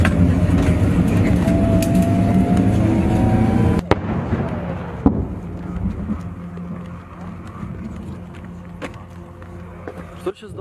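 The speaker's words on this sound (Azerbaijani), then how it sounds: "Hər tərəfdən atəş açırlar." Gunfire crackles around a vehicle speeding along sharp bends near Shusha. Loud, continuous rumbling noise gives way to quieter stretches broken by sharp, isolated cracks and bangs.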